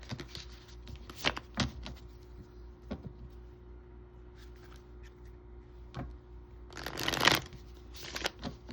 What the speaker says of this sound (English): Go ahead and shuffle tarot cards.